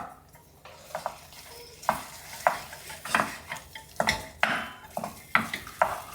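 Kerrygold Irish butter melts in a pan with a soft sizzle. Repeated utensil stirring and scraping strokes sit close and prominent over it.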